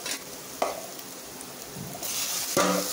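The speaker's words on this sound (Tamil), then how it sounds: "வெங்காயம் நல்லா வதங்கிடுச்சு, கருவேப்பிலை போட்டு வதக்கணும்" Onions and curry leaves sautéing in a pan for prawn thokku, with quiet sizzling broken by several scraping stirs, a louder burst of frying near the end, and no voices.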